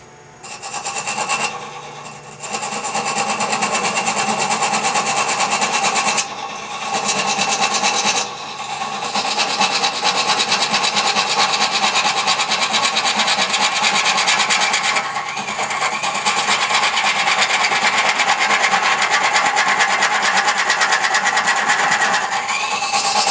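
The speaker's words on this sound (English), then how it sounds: "So use the little multi-tool and clean it up a little bit." Small oscillating multi-tool buzzing against a wooden part on a headstock handwheel job, a loud, steady high rasping drone in long runs with brief pauses between passes, close up and without speech.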